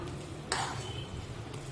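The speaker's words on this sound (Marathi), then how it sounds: "पाण्याला उकळी आलेली आहे आणि साखर पण आपली पूर्णपणे विरघळलेली आहे" Sugar syrup boils in a pan of water with a low, steady bubbling hiss. A single short metallic clink of a utensil sounds partway through, and no one speaks.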